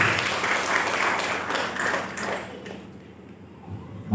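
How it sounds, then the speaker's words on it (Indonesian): A church congregation applauds steadily during a sermon with dense, continuous clapping that fades out toward the end. "Berikan tepuk tangan buat Tuhan Yesus."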